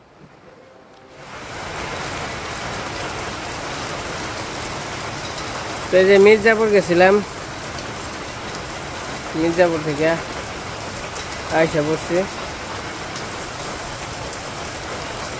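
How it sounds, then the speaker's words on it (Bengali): Steady rain falls in a rural village, a constant close hiss of drops on surfaces that starts after a quiet opening and continues throughout while someone speaks over it in short stretches. "এই যে প্রতিদিন তো বৃষ্টি হয়,"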